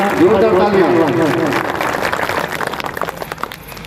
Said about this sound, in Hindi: एक बार सभी लोग ताली बजा के स्वागत कीजिएगा।